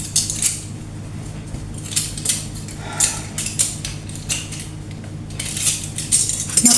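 Dishes and cutlery are handled and put away, with repeated bright metallic clinks and clatters of silverware against plates coming in irregular bursts, close by and with no speech.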